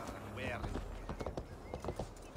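Horse hooves in Assassin's Creed Valhalla, a quick rhythmic clatter of galloping steps mixed with game sounds and a short whinny-like tone, fairly quiet and steady over a brief stretch.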